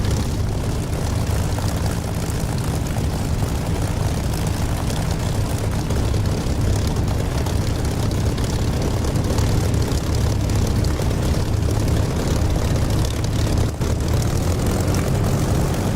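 A Spitfire's propeller engine drones steadily and loudly in the DCS flight simulator, a dense unbroken roar filling the whole stretch with no pauses.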